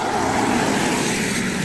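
A truck passing on a roadside, a steady broadband rumble and whoosh of tyres and engine heard close and fairly loud for a brief moment, with no speech.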